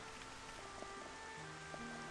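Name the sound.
rain in the video game Xenoblade Chronicles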